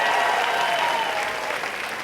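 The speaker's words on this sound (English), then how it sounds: "Give yourselves a round of applause." A comedy club audience applauds during a stand-up set, a dense, steady wash of clapping filling the room from start to finish, loud and continuous with only slight fading toward the end.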